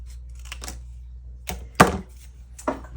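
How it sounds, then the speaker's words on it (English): Cardstock-backed scrapbook paper being cut, giving a few sharp, dry snips close by against a quiet room, with a sharper cut near the middle and another shortly after. "I'm going to cut one"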